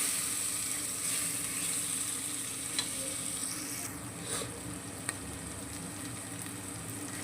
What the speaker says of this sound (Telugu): కొంచెం మంచిగా వేగేంత వరకు అయితే ఇట్లా ఫ్రై చేసుకోవాలి